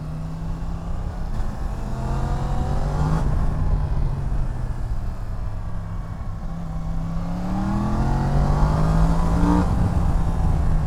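A 2019 Yamaha MT-10 SP motorcycle engine drones loudly and close, its pitch climbing under throttle, easing off, then rising again in a second strong pull toward the end.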